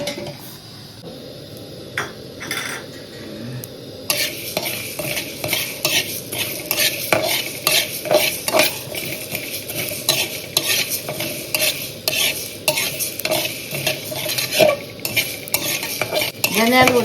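Coriander seeds and curry leaves dry-roasting in a pan are stirred with a spoon, giving a steady run of scraping and clinking strokes over a faint crackle. The strokes are close and grow busier partway through, and no one speaks.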